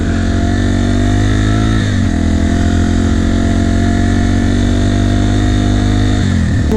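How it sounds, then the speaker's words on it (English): Motorcycle engine running on a ride with a dog aboard, a loud close, steady mid-pitched drone with brief dips where the throttle eases before picking up again. "You like your motorcycle rides?"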